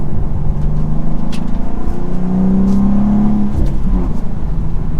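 A 2024 BMW M2 engine pulling hard out of a turn, a loud, close, steady mechanical drone with a rising tone in the middle that holds through the pull, with a few light clicks on top.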